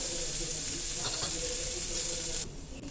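Onions sauté in a pan over a low flame, giving a steady close sizzle that drops off abruptly near the end.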